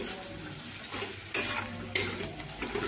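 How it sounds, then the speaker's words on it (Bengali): Spice paste for a fish roe curry fries in oil while being stirred, a steady sizzle under two sharp scraping strokes of a spoon on the pan, close and without talk. "মশলাটি বেশ ভালোভাবে আমি কষিয়ে নিলাম"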